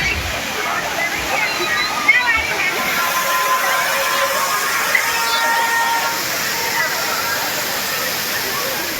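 Thirparappu waterfall in Kanniyakumari district, crowded with tourists bathing, gives a steady broadband rush of falling water with sloshing, continuous and fairly close.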